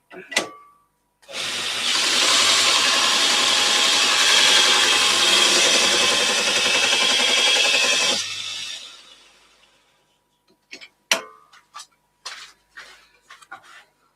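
Woodturning tool being sharpened on a grinder in a workshop, a loud steady grinding rasp lasting several seconds then winding down, followed by scattered short knocks and clatter.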